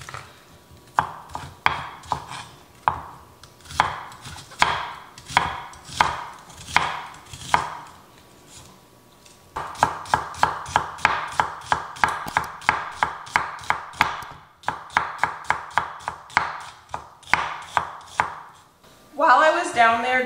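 A knife chops onions on a cutting board in fast, even runs of sharp close taps. The runs pause briefly between batches, and a rustle of handled onion pieces follows at the end. There is no talk.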